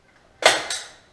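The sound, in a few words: Power Fix staple gun firing a staple into corner bead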